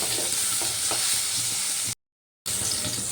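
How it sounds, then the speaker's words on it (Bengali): Chopped tomato frying with green chili in a pan gives a steady, bright sizzle that fills the clip. It breaks off into silence for about half a second, then the hiss resumes with no voices. "এবার একটু ভালো করে ভেজে নেব টমেটোটা নরম হওয়া পর্যন্ত"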